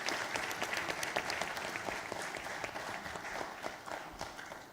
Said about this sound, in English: So can we have a huge round of applause for all of them, please?